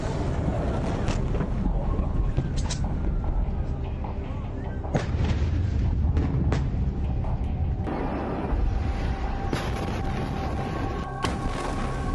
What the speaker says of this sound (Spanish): Así fue el dramático momento de las explosiones en Beirut, en Líbano